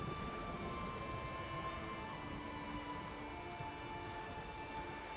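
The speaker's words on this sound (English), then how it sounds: "the rain. I kind of like it. It kind of adds to it." Soft, steady rainfall in The Witcher 3: Wild Hunt patters continuously at low volume, an even wash of drops with a faint electronic hum beneath.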